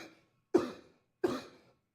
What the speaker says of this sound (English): I apologize if there's like a series of coughs that happens